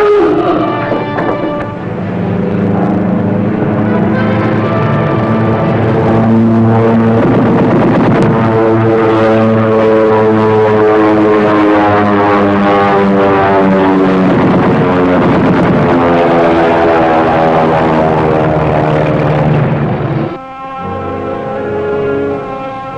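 Submarine crew on a bridge hear a plane pass overhead, a loud sustained tonal drone with steady harmonics that holds for about twenty seconds before dropping off abruptly near the end; no talking.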